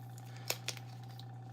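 Adhesive tape torn from a strip while reworking a diorama gives a few sharp, short ripping snaps, close and fairly quiet, with no talking.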